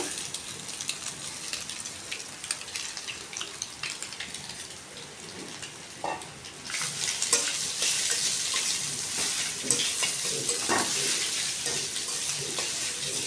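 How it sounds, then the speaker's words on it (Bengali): Mashed potato and grated egg fry in a pan with a steady sizzle, while a utensil scrapes and stirs, the frying growing louder and denser midway through. "হালকা ভাজা হয়ে গেলেই ম্যাশ করা আলু আর গ্রেট করা ডিমটাকেও এর মধ্যে দিয়ে দিচ্ছি।"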